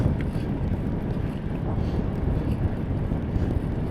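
Steady, heavy wind buffets the microphone with a constant low roar and rumble, loud and unbroken, as a light headwind during a cycling trip from Geneva toward the Mediterranean.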